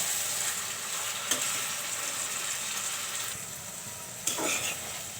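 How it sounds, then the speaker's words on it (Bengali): Spice mix frying in a pan for chicken skin curry, with a steady close sizzle and two brief scraping stirs of a utensil partway through. "মশলাগুলো ভালো করে কষিয়ে নিব।"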